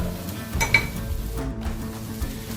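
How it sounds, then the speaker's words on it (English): Peppers and onions fry in a pan for a Philly steak and cheese sub, a soft steady sizzle with a few light stirring clinks and scrapes of utensil on pan, heard alone without talk. "we have the peppers and onions cooking"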